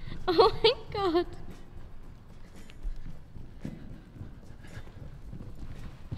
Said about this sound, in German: Ein Pferd verfolgt mich!